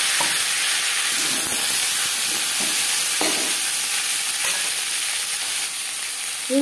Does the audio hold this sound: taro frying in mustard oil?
yes